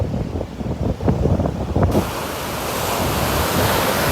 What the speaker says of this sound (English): I do like watching rough waves though.